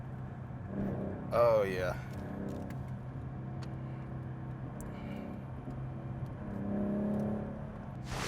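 A 3.7 V6 Ford Mustang driving through second, third and fourth gears, its engine a steady close hum that swells and shifts, with a whooshing rise early on and brief talk over it.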